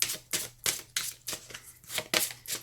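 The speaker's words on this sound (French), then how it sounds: "Alors on mélange bien. Et ensuite on va piocher les cartes." Tarot cards being shuffled by hand, a run of crisp riffling bursts repeating about every third of a second, close and alone.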